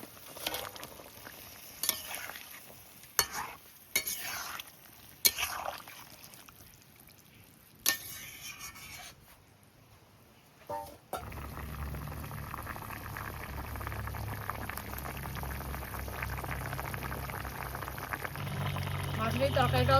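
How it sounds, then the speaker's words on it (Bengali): Fish and fried eggplant dropped into a bubbling curry broth in a pan, a few sharp clatters and thumps first, then a steady low simmering boil that builds gradually. "ঝোল তো ফুটছে, মাছ আর বেগুন ভাজা দিয়ে দিই সব।"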